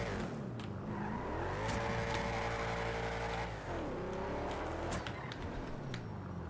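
Custom car engine in the FiveM driving game, revving up and holding a steady mechanical tone, then dropping and climbing again, loud and close with no talk.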